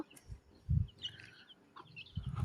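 A mother hen with chicks roams a yard, giving soft low clucks in short bursts amid faint high chick peeps, quiet and close.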